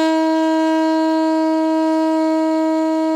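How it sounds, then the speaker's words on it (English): Beginner saxophone sounding a single sustained middle C, a steady, loud, rich reed tone held alone for about three seconds with no talking. "Middle C sounds like this."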